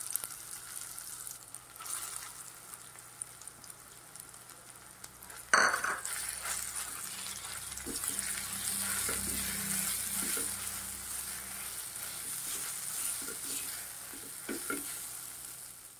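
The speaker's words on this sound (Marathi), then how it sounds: "परतून घेऊया तुपावरती।" Finely chopped green peas sautéing in ghee in a pan: a steady bright sizzle that jumps louder as the peas go in, then continues with occasional stirring scrapes and clinks, with no talking.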